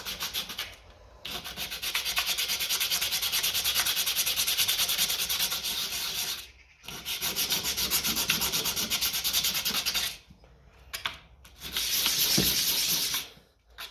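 Someone sands the rusty ends of battery leads on a 1955 Ferguson TEF 20 diesel tractor, making close, loud abrasive rubbing in three long bursts separated by short pauses.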